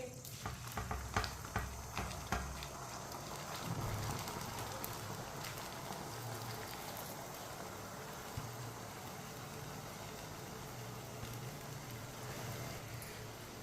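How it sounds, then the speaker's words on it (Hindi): Boiled rice goes into hot sugar syrup for zarda sweet rice, with a few clatters of a spoon against the pot at the start, then a low, steady bubbling sizzle as the rice is stirred, faint and fairly close. "अब इसमें बॉईल किए हुए चावल डाल लेंगे।"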